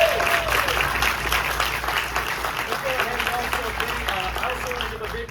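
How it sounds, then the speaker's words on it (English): Applause from an audience at a film premiere Q&A, sustained clapping with crowd murmur beneath and a voice speaking faintly over it. "Let's give her a round of applause."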